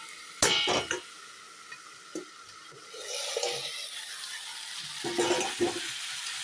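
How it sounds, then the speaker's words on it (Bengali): A lid lifted off a pot of lentil dal cooking with bottle gourd stems, a sharp metallic clank and rattle up close, followed by a rising sizzle and a few more pot knocks, with no voices. "ঢাকা দিয়ে দিয়েছিলাম, এখন ঢাকাটা তুলে নেই"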